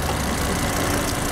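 Engine of a 2006 Volvo S60 2.5T idling as a steady, dense rumble recorded up close, with no voices.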